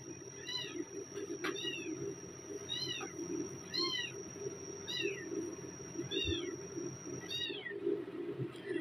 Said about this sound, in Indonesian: Namanya kucing kecil ya.